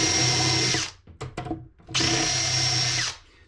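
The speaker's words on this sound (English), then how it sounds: "Let's drill the first hole." A power drill bores holes for wooden boat steps aboard a wooden boat, two loud, close whirring bursts of about a second each with brief clicks and bumps between them.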